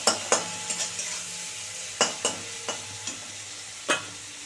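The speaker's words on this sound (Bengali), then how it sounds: "তেল গরম হয়ে গেছে, বা নুন হলুদ মাখানো চিংড়ি মাছটা দিয়ে দিলাম।" Turmeric- and salt-coated shrimp fry in hot oil, a steady sizzle broken by several sharp clinks and scrapes of a stirring utensil against the pan, close and fairly loud with no talking.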